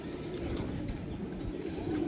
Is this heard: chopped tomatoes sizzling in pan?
no